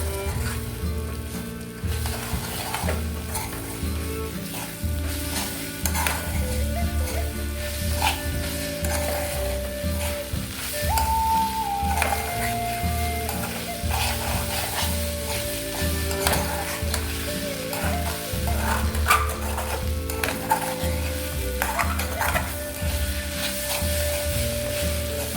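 Leftover dosa pieces stirred into a sizzling pan with other ingredients, a steady loud frying hiss with scraping spoon strokes throughout, and a faint tonal hum in the background.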